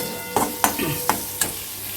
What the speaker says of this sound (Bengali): আদা রসুনটাকে প্রায় এক মিনিটের মতো আমি ভালো করে ভেজে নিলাম